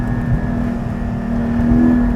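A 2020 Porsche 718 Boxster Spyder pulls hard through a corner in second gear, its engine droning loudly and steadily with a slight rise in pitch over a short stretch, heard from inside with no talking.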